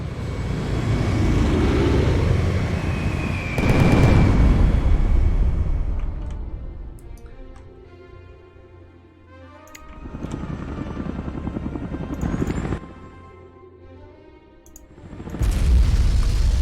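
Attack helicopters and explosions in the Shattered Union strategy game: loud rotor and engine roar with booming blasts, swelling in repeated bursts separated by quieter stretches, with no talk.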